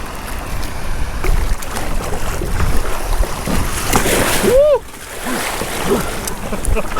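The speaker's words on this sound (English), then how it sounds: "today we are kayak fishing out over the reef" A fishing kayak is launched off a shore onto a Hawaiian reef, with splashing and sloshing water close by and a person speaking over the sounds.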